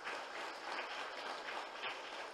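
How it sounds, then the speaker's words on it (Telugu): At a Telugu pyramid meditation society gathering, a crowd applauds with steady, even clapping that sounds fairly distant and faint, continuing without a break and with no speech over it. "గట్టిగా చప్పట్లు కొడదాం"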